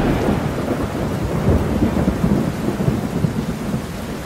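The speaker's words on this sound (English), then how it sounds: "It was raining like crazy out here." Heavy rain pours steadily outside during a thunderstorm, with a dense, loud wash of rainfall and low rumbling thunder underneath, with no voices.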